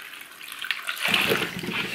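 Water pours into a cooking pot holding cut potatoes, a sudden rushing splash that starts after a second of quiet and keeps flowing steadily to the end.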